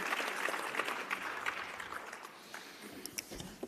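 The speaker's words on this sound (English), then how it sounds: "please give a big round of applause to our contestants" Applause from the audience at a debate plenary for the contestants, a dense, moderately distant patter of clapping that slowly thins toward the end.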